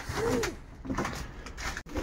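Pigeons cooing softly inside a flight loft in winter, a few low rounded coos close by over a steady indoor room hum, with a brief knock near the end.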